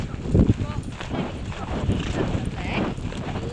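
A horse canters with steady rhythmic hoofbeats, heard from the rider's position, while a rider speaks encouragingly over the footfalls and wind buffets the microphone.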